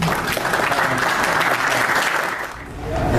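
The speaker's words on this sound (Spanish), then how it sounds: "Entonces démosle un fuerte aplauso a Rubén." An audience applauds a speaker named Rubén at a talk, a dense, loud, steady wash of clapping that dips slightly near the end before swelling again.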